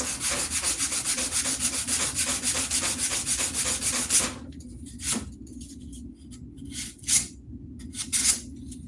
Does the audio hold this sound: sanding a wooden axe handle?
yes